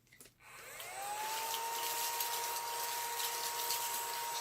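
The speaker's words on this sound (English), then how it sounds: "use my little glitter vacuum." A small battery-operated glitter vacuum switches on after a brief clatter and spins up into a steady, high whirring whine that runs continuously while cleaning up glitter, close and fairly loud.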